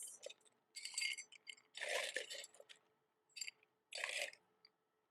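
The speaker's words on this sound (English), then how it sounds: "Add some ice." Ice cubes are dropped into a cocktail glass, several separate bursts of clinking and crunching that are close and fairly quiet, with short pauses between them.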